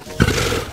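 A lion gives a short, loud, close roar that begins abruptly and holds steady until it cuts off.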